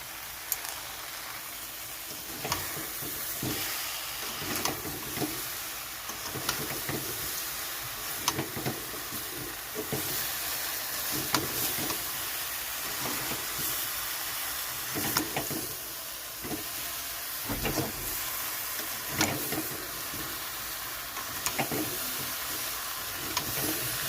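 A spatula scrapes repeatedly through sweet mango pickle with melting date palm jaggery in a pan, the strokes coming in a loose rhythm over a steady soft sizzle and hiss.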